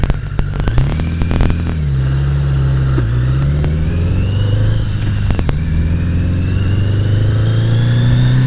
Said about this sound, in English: Traffic. Too much traffic.